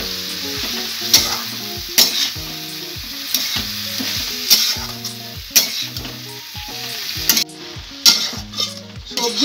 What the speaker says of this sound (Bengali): সবজিগুলোকে ভালো করে মশলার সঙ্গে কষিয়ে নিয়েছি 2 মিনিটের মতো সময় ধরে।